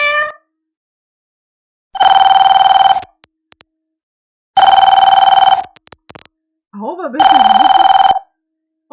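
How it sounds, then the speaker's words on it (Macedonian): A telephone bell rings in three loud bursts of about a second each, separated by short silences, with a brief cat-like meow between the later rings. "ова е звукот на телефонот."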